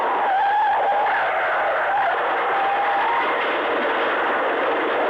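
A car skids with a long, loud tire squeal heard over a phone line, the screech holding steady and wavering for several seconds with no crash impact standing out.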